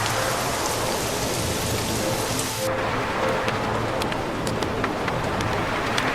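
Heavy rain pours down in Miyazaki, Japan, a dense, loud, continuous roar of drops hitting surfaces, with scattered sharper splats and drips standing out partway through.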